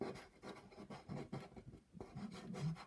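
A paintbrush scrapes in short, rhythmic strokes across textured canvas while scumbling green paint over an underpainting, a faint, close, dry scratching that repeats steadily.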